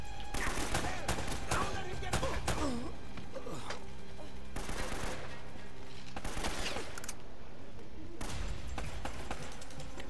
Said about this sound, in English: You always seem to be getting shot at. They're shooting at you too, you know.